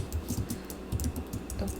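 Quick, light keystrokes on a computer keyboard while entering settings in software, a brisk irregular run of soft clicks heard up close.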